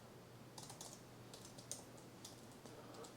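Quiet, close typing on a computer keyboard comes in short irregular bursts of clicks over a low electrical hum, with no talking.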